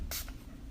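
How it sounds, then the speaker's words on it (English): Milani Make It Last setting spray misted onto a face as a short, close hiss burst of about a tenth of a second, followed by a fainter second puff. "I'm going to try the Milani Make It Last setting spray."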